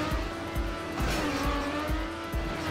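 A racing car in the ChronoQuest game drifts through a bend, with steady engine drone and a sustained tire squeal, plus a few regular thumps over the short stretch and no talk.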